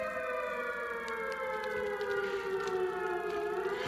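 A siren wails with a steady, slowly falling tone that stays loud and close throughout, with no voices.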